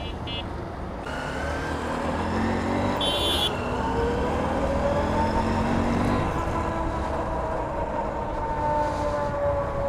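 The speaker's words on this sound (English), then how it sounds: "trucks, rickshaws are coming." Heavy road traffic with buses, trucks and rickshaws rumbles past close by, a continuous low engine drone with a few horn blasts and passing vehicles rising and falling.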